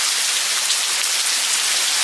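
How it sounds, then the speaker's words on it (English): Cold rain falls in a steady, dense hiss of drops on surfaces, loud and close, unbroken for the whole stretch with no voices. "this rain is cold"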